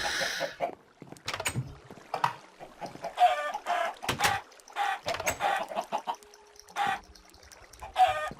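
Chicken clucks from a Minecraft adventure map, a string of short squawky bursts repeating through the clip at moderate loudness, with nobody talking.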